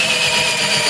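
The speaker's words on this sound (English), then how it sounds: "Let's put it to the test. ALTOCRAFT 20 volt drill." An ALTOCRAFT 20V MAX medium-duty cordless drill/driver with a lithium battery runs at a steady, close, high-pitched whir for the full second, with no voices.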